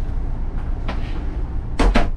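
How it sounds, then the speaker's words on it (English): A bathroom door in a Fleetwood Fortis RV swings shut, giving two quick, close wooden clacks near the end after a quiet stretch of faint room noise. "Close the door."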